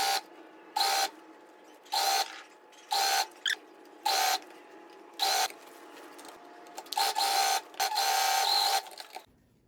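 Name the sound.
sewing machine stitching along bias binding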